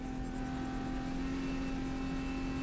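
A 2015 Porsche Cayman S engine at full throttle on a race track, a steady, continuous drone with a constant high whine, loud and unbroken throughout with no talking.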